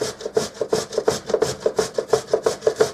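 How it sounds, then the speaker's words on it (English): Potatoes are grated on the large holes of a box grater in steady back-and-forth strokes, about four per second. The rough rasping is close and continues throughout, with no talking. "I'm just going to start grating these on the large side of your box."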